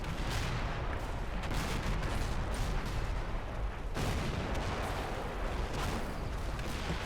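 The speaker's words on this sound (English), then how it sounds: "some mortars landing down there" Mortar rounds land in the Combat Mission Final Blitzkrieg war game at Stavelot, a dense continuous barrage of crackling blasts and rumbling impacts at an even level, with no speech over it.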